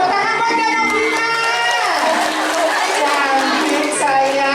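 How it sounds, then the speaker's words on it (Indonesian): Audience applause and crowd noise for a young girl on stage at a Balinese arja performance, a steady wash of clapping and chatter under a sustained voice. "tepuk tangan buat dia dong"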